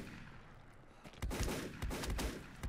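Gunfire in the video game Volcanoids: a quiet stretch, then a burst of loud, rapid shots from about the midpoint on, several sharp cracks in quick succession close up.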